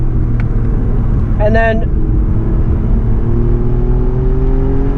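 A race car at Buttonwillow track, heard from inside as the engine note holds and then slides under hard braking before rising again on acceleration, loud and close, with someone talking over it briefly.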